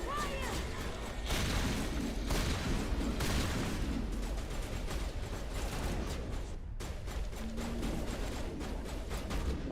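Grenade blasts and gunfire from the Mass Effect video game rattle in dense, continuous bursts with heavy low booms, loud and close, with game voices mixed in.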